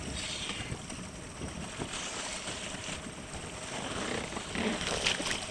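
A boat motor drones steadily at sea off the Seychelles, a continuous hum mixed with wind buffeting and water wash, fairly quiet and unbroken with no voices.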